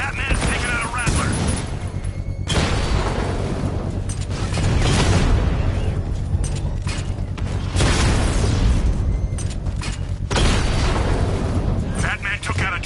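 Explosions and heavy blasts as Batman destroys a Rattler vehicle in a Batman video game, a dense sustained barrage of booms and rumbling impacts filling the whole stretch, with a voice talking over it.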